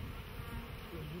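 Honeybees at a beehive give a steady, close buzzing drone that fills the whole moment without a break, with no voices over it.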